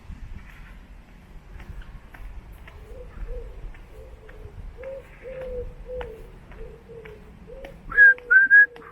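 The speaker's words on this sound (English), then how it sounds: "That's a pigeon, that." A pigeon coos repeatedly in a cemetery, a steady run of soft, low, evenly spaced calls at moderate distance over outdoor background rumble, with a brief higher whistling sound near the end.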